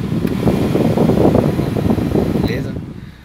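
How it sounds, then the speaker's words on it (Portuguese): The air conditioning fan of a 2004 Chevrolet Corsa Classic 1.6 blows with a loud, steady rushing whoosh inside the cabin, fading slightly toward the end. "ar quente e ar frio, ar condicionado na verdade"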